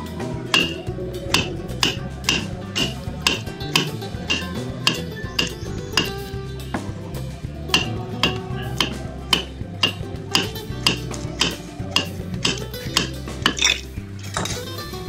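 A knife cuts a banana into pieces on a board, giving a long series of sharp, evenly spaced taps and clicks, close and clear with no talking.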